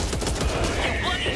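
Rapid weapon fire from a flamethrower-type gun in the video game Back 4 Blood, a steady dense burst of noisy bangs filling the whole moment, with a voice faintly mixed underneath.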